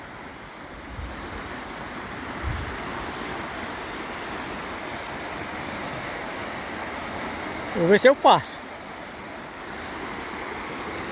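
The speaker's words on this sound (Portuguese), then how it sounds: "Ela tá chegando agora a água." Steady broadband rush of floodwater pouring over a road across a dam, constant throughout with wind noise, and someone speaking briefly near the end.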